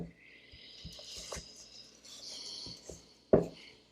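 A spoon stirs a patty mixture with torn parsley in a bowl. The stirring makes soft, irregular knocks and squishy scrapes, closing with one louder clack, against a faint high background hum.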